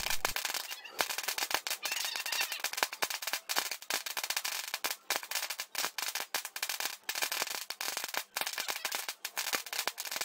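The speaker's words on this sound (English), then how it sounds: "the explosive take a very long time to finish exploding" A long string of firecrackers going off for Chinese New Year, a rapid crackling rattle of sharp pops, fairly distant and continuous with irregular bursts.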